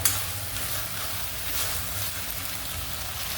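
Noodles stir-fried over a high flame for Schezwan rice, a continuous dense sizzle with a low hum beneath and faint stirring, steady and close throughout.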